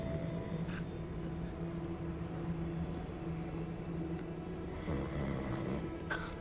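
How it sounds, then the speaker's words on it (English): A character snoring in Hogwarts Legacy, slow rhythmic rasping snores repeating under a low droning ambient hum, moderately close and fairly quiet. "I can hear someone snoring."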